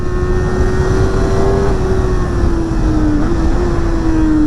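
A Kawasaki ZX-4RR motorcycle engine drones at high revs with a steady, loud, buzzy tone, the pitch drifting slightly as it holds speed on a twisty road.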